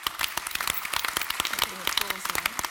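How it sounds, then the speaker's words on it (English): An audience applauding at a council debate: dense, irregular handclaps from many people throughout, moderately loud, with a voice speaking faintly underneath. "Taking applause now."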